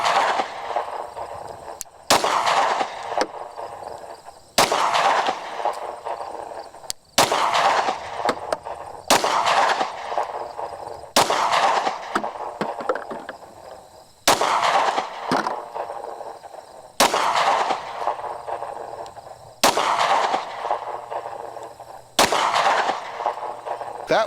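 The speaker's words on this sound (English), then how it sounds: "Each time we'll be using 115 grain 9mm full metal jacket, and we're going to start with the Glock 43X." A Glock 43X pistol firing 115 grain 9mm full metal jacket rounds outdoors, with about ten loud, sharp shots at a slow, steady pace of roughly one every two to three seconds, each followed by a short echoing decay.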